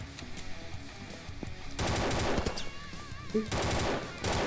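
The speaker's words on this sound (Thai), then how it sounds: "มีใครยิงครับมีใครยิงครับ" Automatic gunfire in the video game No Tyrant, several rapid bursts of machine-gun fire at close range separated by short gaps, loud and without talk.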